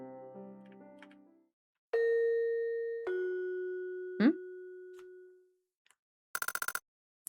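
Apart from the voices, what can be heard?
doorbell ringing in a video game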